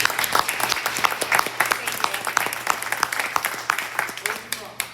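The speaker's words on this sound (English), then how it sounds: "A round of applause for this one." An audience applauds at a chicken processing demonstration, with sharp, uneven hand claps coming close and fast over a steady low hum, while someone talks through part of it.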